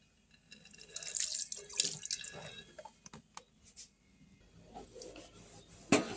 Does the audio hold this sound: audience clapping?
no